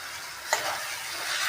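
Spices drop into onions frying in hot oil in a pan and are stirred in, giving a steady close sizzle with a brief scraping clack of the spoon near the start, and no voices.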